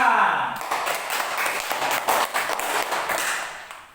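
Classroom of children clapping together after a pupil names the parts of a bird's heart, a dense burst of hand claps that fills the room and gradually thins out by the end.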